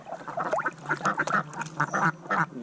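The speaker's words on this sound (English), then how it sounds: "The great duck army gathering his forces." Ducks at Lane's Dam in Alexandra quack repeatedly in a close, busy chorus, with overlapping nasal calls filling the whole stretch.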